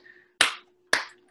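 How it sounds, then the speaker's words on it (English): An audience claps after a talk in three short bursts, each sharp onset fading quickly, with brief silences between and a faint low hum underneath. "I know everybody's clapping here for you"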